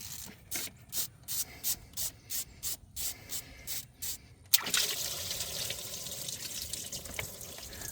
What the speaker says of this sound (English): put our little catch basin under here because we're about to pull the water pump off